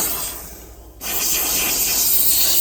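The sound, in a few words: steam cleaner hissing while sanitizing mold on a boat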